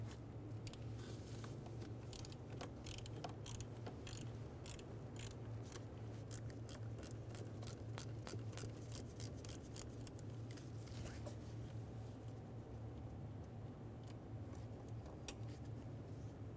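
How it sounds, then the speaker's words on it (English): A T20 Torx bit clicks and ratchets as it backs the throttle position sensor bolts out of a 2000-2007 Ford Focus, giving a run of sharp, close, rhythmic ticks over a steady low hum. "Using a T20 bit, we're going to remove the two bolts for the throttle position sensor."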